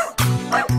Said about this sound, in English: There was a farmer had a dog and Bingo was his name-o